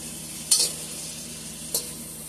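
Turkey meatballs fry in a pan with a steady close sizzle, broken by two brief clinks of a utensil against the pan.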